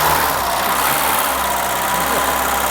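A Renault car engine runs at a steady idle close by, a continuous loud rumble with a faint mechanical hum and no voices over it.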